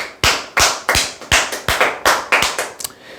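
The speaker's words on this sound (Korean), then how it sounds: "박수 한번 치시죠" An audience claps in a steady rhythm, with about ten sharp, separate claps close by and loud. No voices are heard.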